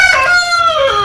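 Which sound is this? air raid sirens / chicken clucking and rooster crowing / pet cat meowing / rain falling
chicken clucking and rooster crowing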